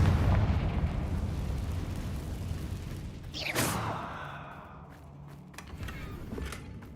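A Confringo fire spell from Hogwarts Legacy erupts in a single sharp burst midway, followed by a decaying rumble over a dense game soundscape of ambient noise and faint clicks.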